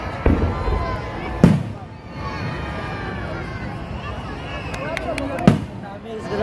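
Sinulog fireworks display in Cebu: a continuous crackle and rumble of bursting shells, with two sharp, loud booms standing out, while a crowd chatters and calls out nearby.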